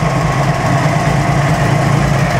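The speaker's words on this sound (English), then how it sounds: "Oh, it's got an airplane engine." A classic car fitted with an Allison airplane engine idles at a concours show, a loud, steady low rumble with a continuous vibrating drone close by.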